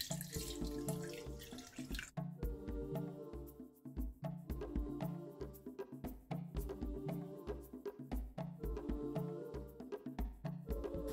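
Steady running tap water splashes into a sink as a frying pan is rinsed, with clinks and scrapes of the pan against the basin throughout, close and fairly loud with no talking.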